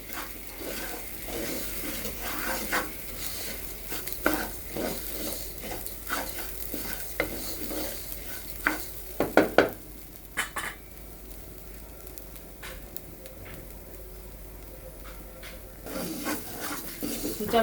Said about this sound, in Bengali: চালটা ভাজা ভাজা হয়ে আসছে